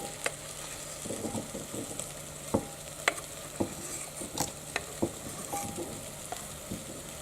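Chicken soup simmers in a pot with a soft steady sizzle while a utensil scrapes and clinks against the sides in scattered stirring strokes, quiet and close.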